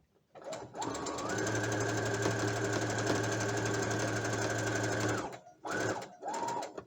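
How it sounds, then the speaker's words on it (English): A sewing machine stitches through two layers of fabric in a fast, steady mechanical whir with a rapid needle clatter for about four seconds. It then stops and gives a couple of short bursts. "When I have a bulk of the fabric, I'll go slower with my sewing machine."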